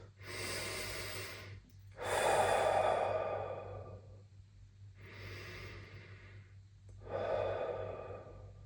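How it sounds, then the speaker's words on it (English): Slow deep breaths taken by a pistol shooter with eyes closed, two long inhale-exhale cycles heard close and alone, each breath a soft airy rush with quiet gaps between. "I'm going to close my eyes and take 2 deep breaths."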